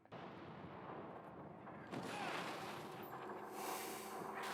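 Weapon firing in Halo Reach, a heavy booming artillery-like blast that swells into a loud rumbling roar partway through, with a faint hum before it.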